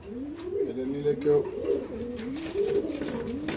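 Pigeons coo in a steady, overlapping murmur, close by in cages at a market, with faint rustling underneath and a voice briefly mixed in.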